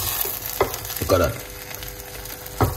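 Quinoa stirred in a hot pan as it dries out, giving a soft steady sizzle with a few louder scraping stirs at intervals.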